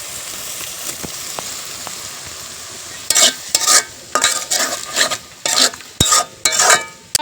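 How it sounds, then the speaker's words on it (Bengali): Prawns are stirred and fried in spice masala; a quiet sizzle gives way to repeated loud, rhythmic scraping bursts of a spatula working through the thick mixture, with occasional metal clinks. "এখন মশলার সাথে মাছগুলো কষিয়ে নিবে।"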